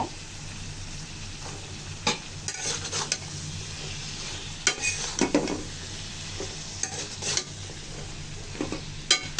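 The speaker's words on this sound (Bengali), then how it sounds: "লতি দিয়ে নাড়াচাড়া দিয়ে মিশিয়ে নিব।" Steady sizzling in a pan as taro stolons are stir-fried with spices, with repeated scraping and stirring strokes of a utensil, spaced irregularly throughout, with no voices.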